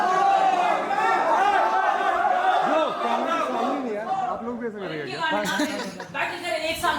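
An excited crowd at a rap battle chatters and chuckles throughout, with loud overlapping voices and bursts of laughter close by.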